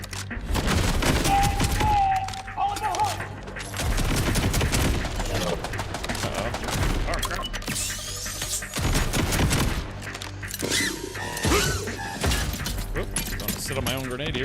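Rapid gunfire volleys in Borderlands 4, dense and loud bursts of shots layered over game music and effects, continuing almost without pause with someone talking intermittently over them.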